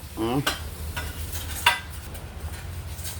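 Beef fry with kothu parotta stirred in a hot pan: a few distinct spatula scrapes and clanks over a low, steady sizzle, close and fairly quiet, no speech.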